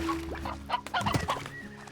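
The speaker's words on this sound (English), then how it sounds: "There's one rooster." A rooster in the video game Slime Rancher gives a quick run of short, close clucks over a low steady hum, with a flutter of wings midway.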